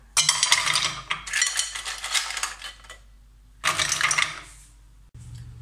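Mussels are tipped into a metal cooking pot with bright, rattling clatters of shell on metal in three bursts, the last cut short by a lower thud.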